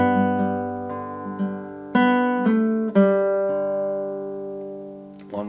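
A fingerpicked acoustic guitar plays a full G measure of a song, with a steady run of about eight plucked notes that ring into each other, close and moderately loud, and a brief string noise at the end.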